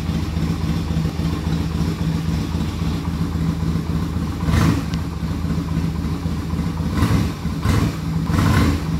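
Yamaha Virago 250cc motorcycle engine, a cafe racer bobber project, idling with a loud rough rumble and a few short revs blipping up near the end, no talk.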